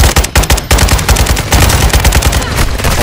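Heavy automatic gunfire in the video game Call of Duty Modern Warfare 2, loud rapid bursts of shots in quick succession, dense and close with no pauses.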